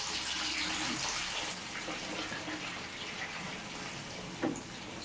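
Ivy gourd pieces dropped into hot oil for deep frying, giving a steady loud sizzle and crackle from start to finish, with one brief louder pop near the end.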